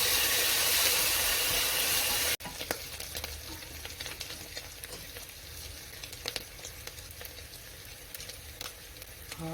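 A garlic paste mixture for lamb curry is stirred in a hot pan. A loud sizzle opens the clip, then gives way after a sharp break to softer frying hiss with scraping spoon clicks and taps.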